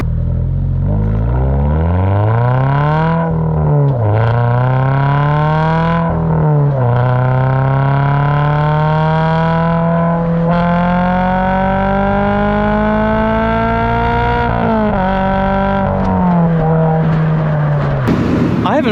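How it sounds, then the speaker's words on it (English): A stock car is floored at full throttle, its engine screaming higher through each gear before dropping at quick shifts, about four pulls in a row, loud and close from inside. "I haven't floored this car"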